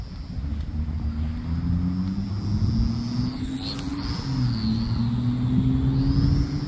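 A Vevor T28 Trojan (XK A210) RC park-flyer airplane on an 800mAh 1S LiPo drones steadily overhead, its small motor a continuous whine with gently shifting pitch over wind rumble, with no talking.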